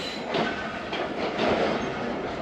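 The Khyber Mail passenger train rolls along the rails with a steady loud rumble and rhythmic clatter, heard up close from on board with no talking.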